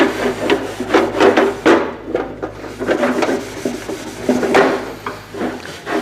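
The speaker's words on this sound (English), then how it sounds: "Anytime you're sanding something." Hand sanding a part from a 40 hp VW engine, in short scratchy back-and-forth rasping strokes that alternate direction, close and fairly loud with no talking.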